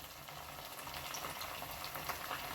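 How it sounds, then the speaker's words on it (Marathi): Quiet, continuous sizzle and crackle of bhagar vada frying in hot oil in a pan, an even bubbling hiss with scattered small pops, no voices. "सुरुवातीला आपल्याला 1 मिनिट तळू द्यायचे आणि त्यानंतरच आपल्याला ते उलटून घ्यायचे आहे."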